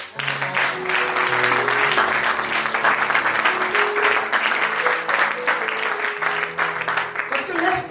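Congregation at a church funeral service applauding in acclaim of the Lord, steady dense clapping throughout with some sustained music tones underneath.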